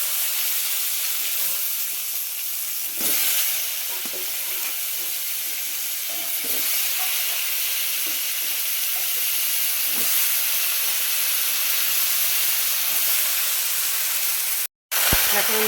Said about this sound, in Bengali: ভাজাটা আমার হয়েই গেছে, লাউ আলু ডাঁটাটা